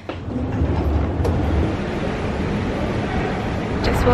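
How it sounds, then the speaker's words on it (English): A subway train rumbles through a Beijing subway station: a steady, loud, low roar that holds for about four seconds, with faint higher hiss and clatter above it. "Just walked out of the subway station"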